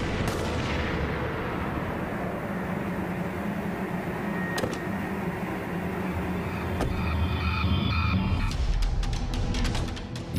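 Sharp gunshot cracks in a reenacted crime scene from a German true-crime documentary, a few distinct reports standing out over a dense, steady background of dramatic noise, with a cluster of rapid impacts near the end.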